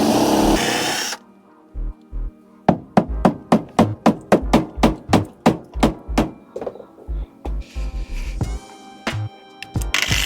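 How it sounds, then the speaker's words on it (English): A power tool works at a rusted bolt on a Ford Transit van camper, giving a loud, close run of regular percussive bursts, roughly a dozen evenly spaced, after a brief noisy start and pause. "What I'll probably do is try and drill it out."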